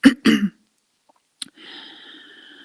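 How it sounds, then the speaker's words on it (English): Two quick, close coughs followed by a short pause, then a brief throat clearing that trails into a soft rasping breath. "I cough and clear my throat."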